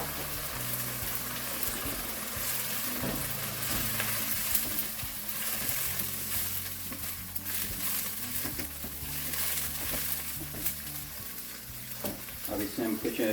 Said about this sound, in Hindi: अब इसी के साथ हम चॉप टमाटो हैं 400 ग्राम, वो उसको मिक्स कर लेंगे इसमें